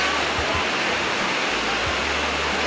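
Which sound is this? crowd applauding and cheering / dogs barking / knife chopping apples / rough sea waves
rough sea waves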